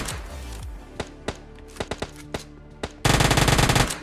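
Gunfire in the mobile battle royale game PUBG Mobile Lite: a handful of sharp single shots spaced irregularly, then a loud rapid automatic burst near the end, with no talking.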